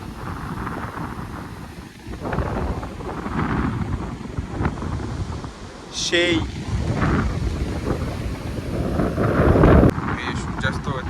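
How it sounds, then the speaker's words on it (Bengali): Strong wind blowing across a deserted private beach near Puri at sunset, a steady loud roar buffeting the microphone with gusts, while someone speaks briefly over it. "যা হাওয়া দিচ্ছে ভাই,"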